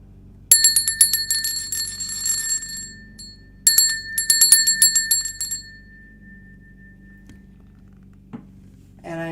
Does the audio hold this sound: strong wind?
no